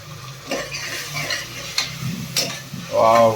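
Ground masala is tipped into a pot of Sunday-special trotter soup and stirred, giving scraping spoon strokes, light clinks of metal and a soft sizzle that swells near the end.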